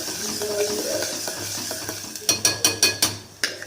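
Onion paste being stirred in a pot, a steady scraping bed that breaks into a run of sharp spoon knocks against the metal rim near the end.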